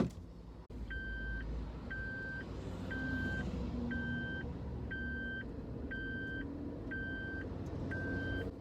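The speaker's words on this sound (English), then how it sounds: "the seatbelt warning noise when you don't have your seatbelt on" A 2019 Suzuki Jimny's seatbelt warning chime repeats steadily about once per second, each tone short and clean, over a low hum of the idling car interior.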